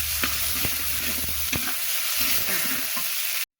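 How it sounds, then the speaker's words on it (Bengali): Onions and garlic fry in hot oil for lentil (masoor dal) cooking, giving a steady sizzle with occasional stirring clicks, close and fairly loud, ending abruptly. "পেঁয়াজটা ভাজা হয়ে গিয়েছে"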